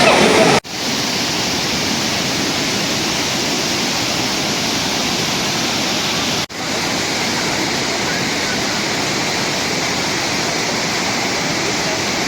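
Tortum Waterfall in Erzurum roars as a loud, constant wall of rushing water, unbroken apart from two brief cuts.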